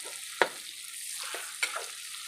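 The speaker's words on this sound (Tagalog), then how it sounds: "Lutuin muna natin yung ating sibuyas." Onions sizzle and fry in a pan, making a steady, close crackle broken by a few clanks from a stirring utensil.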